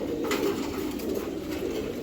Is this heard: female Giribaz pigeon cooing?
yes